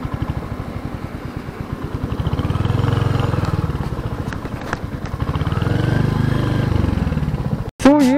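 A 2023 Royal Enfield Hunter 350 motorcycle engine hums steadily at moderate revs while riding in second gear, with a brief sharp burst of noise at the end.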